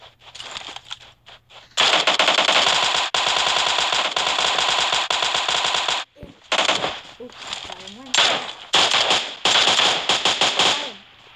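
Bursts of automatic gunfire in PUBG rattle close and loud, with long sustained volleys and then choppier bursts; a player talks briefly between the shots.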